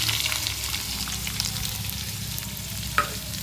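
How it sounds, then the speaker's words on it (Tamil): Onions sautéing in oil in a pan for an intestine (kudal) gravy, a steady close sizzle and frying hiss with faint stirring scrapes and one brief clink near the end. "வெங்காயம் வந்து நல்லா பொன்னிறமாக வதக்கணும்."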